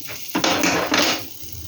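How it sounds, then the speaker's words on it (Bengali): A kadai wok set down on a kitchen stove, a clanging metal knock followed by a short ringing scrape of the pan settling, close and with no talk. "কড়াই বসিয়ে দিলাম"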